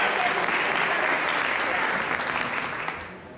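Congregation at a church celebration service applauds warmly, a dense, even patter of clapping from many hands that gradually tapers off toward the end.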